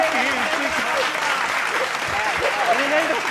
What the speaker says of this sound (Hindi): देखो मृत्युंजय जी ताली बजा दिए